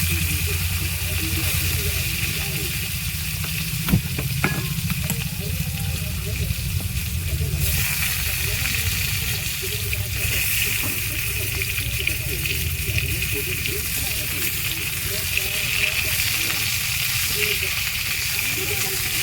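Chopped vegetables sizzle and hiss steadily in hot oil with whole cumin seeds for a Bengali fish curry with green banana, a continuous close frying sound with a brief clatter early on.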